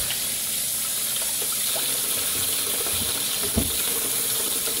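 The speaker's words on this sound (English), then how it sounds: "Hold on, let me rinse here." Water runs steadily from a kitchen tap during rinsing, a constant close hiss with a faint clunk near the end and no voices.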